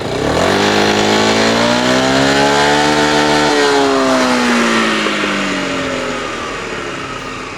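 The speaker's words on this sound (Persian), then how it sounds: "صدای انجین اگزوز رو گوش کنی" A loud Honda ADV 350 scooter engine revs up, the exhaust note climbing in pitch, then settles back into a steady drone that slowly fades.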